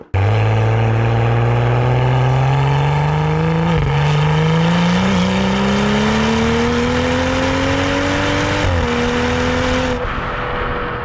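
A 385 bhp Stage 1 tuned BMW M135i with an 8-speed ZF automatic pulls hard on the road, its engine note climbing steadily and loudly, easing briefly at two gear changes before rising again.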